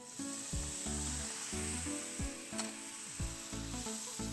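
Chili powder and onions fry in oil as a little water is added, a steady sizzle broken by regular, rhythmic scraping strokes of a spoon stirring in the pan.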